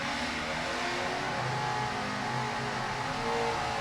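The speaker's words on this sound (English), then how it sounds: "WHM trying to get started again, as you can hear the engines." Racing powerboat engines rev as a boat tries to restart during a race, a loud continuous broadband roar with a steady droning engine note, heard alone without talk.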